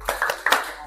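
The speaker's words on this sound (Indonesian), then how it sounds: "Oke, beri kelompok D tepuk hebat." A school class gives a short rhythmic patterned clap for a group, a few quick sharp hand claps close by.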